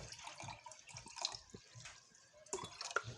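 Liquid for soapmaking trickles softly into a measuring jug, with faint irregular drips and splashes in a quiet room and no voices.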